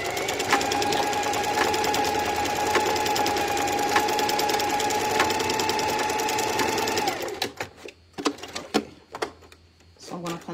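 Sewing machine with a walking foot stitching elastic in a straight stitch, a loud, steady mechanical whir with rapid needle clatter that runs for about seven seconds, then stops, leaving scattered handling clicks.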